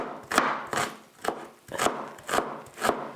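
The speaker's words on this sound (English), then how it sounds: "I'm going to chop this up." A knife chops vegetables on a cutting board in a home kitchen, six crisp, evenly spaced strikes in a slow steady rhythm, close and clear with no talk.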